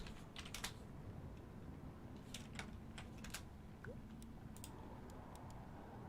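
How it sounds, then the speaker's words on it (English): Rapid, fast-paced typing on a computer keyboard during a Total War Warhammer 2 multiplayer tournament stream, clusters of clicky keystrokes in quick bursts over a steady low background hum, close and moderately quiet. "that horrible quick typing without looking"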